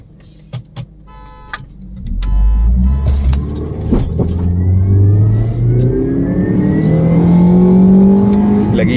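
An automatic Honda Accord roars off the line in a drag race, with the engine climbing from a low growl to a loud, rising rev through the gears. A few sharp knocks come first, then a steady, strained pull that stays close and fills the air.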